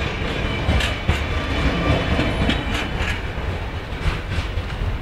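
A Class 60 freight locomotive, number 60.024, pulls slowly away past a level crossing in Lincoln. A steady, close rumble of engine and wagons runs throughout, with a rhythmic clickety-clack of wheels and no talk.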